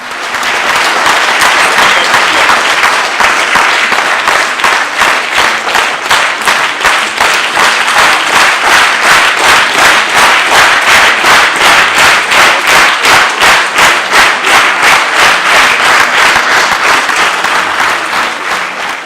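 Loud, sustained applause from a theatre audience after a stage play, dense rapid clapping that holds steady at full strength for about eighteen seconds before easing slightly at the end.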